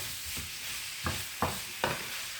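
Precooked rice noodles tossed in a hot pan, a few soft scraping stirs and light sizzle bursts repeating about every half second, close and moderately loud.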